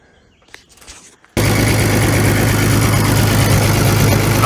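A 1950s Rolls-Royce engine starts abruptly after a brief quiet stretch of faint handling noise, then runs at a loud, steady idle with a constant low drone to the end.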